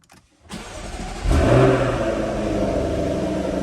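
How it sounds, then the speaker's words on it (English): A Jaguar F-Type V8 rear-wheel-drive sports car engine cranks and fires up via push button, surging into a loud rev before settling into a steady, deep idle. "Starting the engine in the F-Type, of course, just a matter of pressing the stop-start button."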